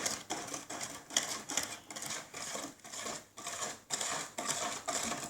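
A child stirs cake batter in a bowl, the scraping strokes repeating in a steady, quick rhythm of close, rasping swirls with no talk over them.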